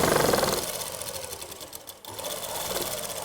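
A sewing machine runs close and steady, stitching a seam on palazzo trousers in one continuous whirring burst that dips briefly midway before picking back up.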